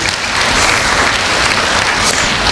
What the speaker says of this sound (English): But claps for him.